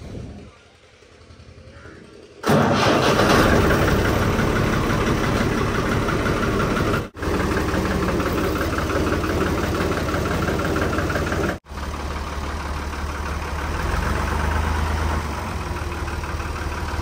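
A farm tractor engine cranks and catches after a quiet start, then settles into a loud, steady, knocking idle close by, with two brief dropouts along the way.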